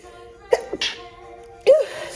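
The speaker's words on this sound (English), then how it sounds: "I have to sneeze" A single sharp sneeze, preceded by a quick intake of breath and followed by a short vocal sound, in an otherwise quiet room.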